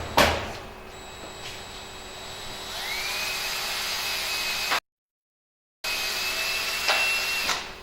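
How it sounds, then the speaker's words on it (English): A power sander runs in a studio, giving a steady, close motor whine with a rough grinding edge that holds almost unbroken, cuts out for about a second and then resumes. "Because that'll be the easiest place to sand."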